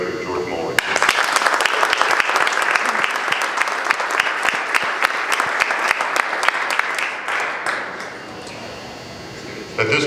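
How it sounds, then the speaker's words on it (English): An audience at a ring and plaque ceremony gives a round of applause, a loud, dense wash of many clapping hands that holds steady and then thins out toward the end, with scattered voices in the crowd. "give a very special welcome and a round of applause to our Executive Director, George Moley"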